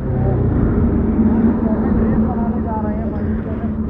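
Yamaha R15 V3 and Bajaj NS200 motorcycles running side by side on a highway ahead of a drag race, a loud, steady, close engine drone with a constant tone that holds without break.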